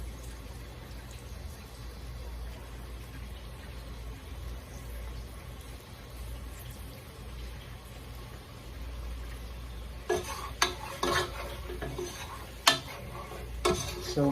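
A spoon stirs garlic in a pan, scraping and clinking against the metal in a few brief, louder strokes near the end over a steady low kitchen hum.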